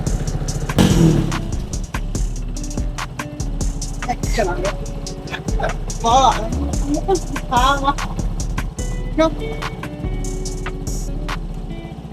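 A Honda PCX160 scooter engine with a 63mm 173cc big bore kit and large fuel hose idles steadily throughout, a low continuous drone with faint mechanical clatter and occasional higher whines over it.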